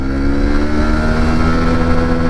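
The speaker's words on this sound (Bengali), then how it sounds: "সো গাইজ চলো চলো, 1 গিয়ারে কত উঠে দেখা যাক।" A vehicle engine pulls hard in first gear, a loud steady drone rising in pitch as it accelerates, close and continuous with no talk.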